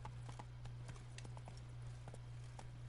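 Roach, a horse in the video game The Witcher 3, clip-clops along with soft hoof steps over a constant low in-game hum, faint and fairly steady throughout.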